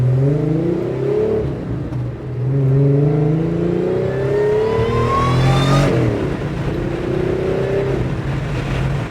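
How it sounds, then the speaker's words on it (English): A Pontiac Fiero with a supercharged GM 3800 V6 and five-speed revs hard several times, rising and falling in pitch with a throaty exhaust rasp, loud and close with no talking. "This thing sounds awesome with this exhaust."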